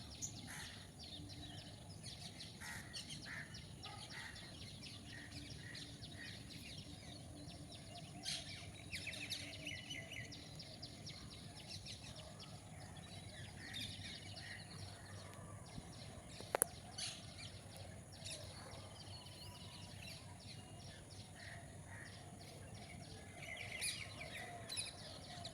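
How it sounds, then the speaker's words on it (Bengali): Parakeets and crows call outdoors in the morning, faint scattered chirps and squawks at a distance over a quiet ambient background with light insect noise. "আবার টিয়া পাখিগুলো যাচ্ছে"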